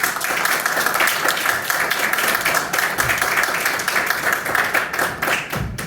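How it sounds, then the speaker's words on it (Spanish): An audience gives a welcoming round of applause at an art event, many hands clapping in a full, even burst that holds steady for several seconds. "Vamos a recibir un fuerte aplauso"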